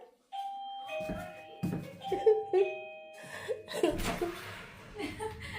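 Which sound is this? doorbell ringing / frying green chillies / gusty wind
doorbell ringing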